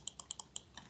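Quick, faint keystrokes on a computer keyboard in a classroom setting, about half a dozen clicks tapped in an uneven rhythm with no talking.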